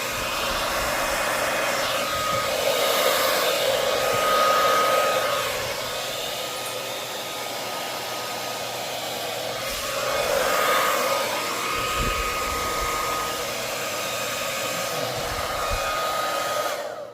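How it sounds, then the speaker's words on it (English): A hair dryer blows with a loud, continuous whooshing roar, swelling and easing slightly as it moves, close by and uninterrupted for the whole stretch. "Let me give it a blow with the hairdryer."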